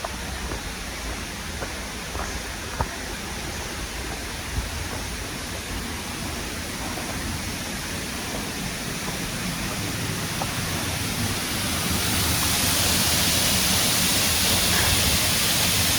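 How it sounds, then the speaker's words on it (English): Steady broadband roar of Multnomah Falls in Oregon, a dense continuous rush of falling water that swells slightly louder toward the end, with no voices. "That's waterfalls."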